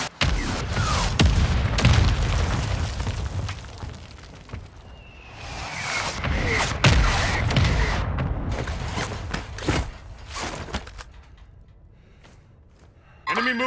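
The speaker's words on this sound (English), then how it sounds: "Friendly mortar strike inbound." Mortar strike explosions in the video game Call of Duty Warzone: a series of loud, heavy booms and crashing impacts with mechanical clatter, spread across the clip with brief lulls between blasts.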